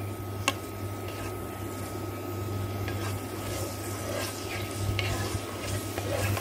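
Onions near the end of cooking in oil give off a steady, soft sizzle and crackle, with an occasional clink of a utensil against the pan.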